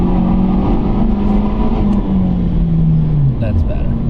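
BMW 1 Series F20 hatchback engine rising in pitch as it accelerates to overtake a slow car, a steady loud in-cabin drone climbing and shifting near the end, with a voice talking over it.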